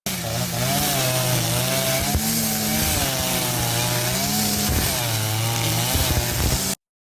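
A loud, continuous two-stroke motor whine from a handheld trimmer, pitch wavering up and down as the throttle shifts, steady and close throughout until it cuts off abruptly at the end.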